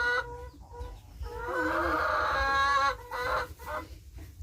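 A chicken calls up close with a drawn-out clucking cry, followed by shorter clucks, with faint background noise and no talking.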